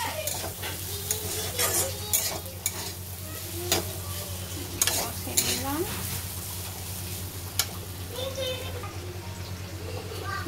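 Rice and eggs being stirred and sautéed in a pan, with scraping and clacking utensil strokes over a steady sizzle while a voice talks briefly.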